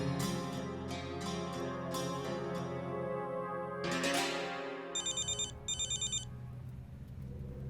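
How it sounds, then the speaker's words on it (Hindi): An electronic phone ringtone plays a melodic tune, then shifts to short repeated trilling bursts of a ringing telephone, moderately loud and alone. "मुझे मन्नू को फोन करना चाहिए"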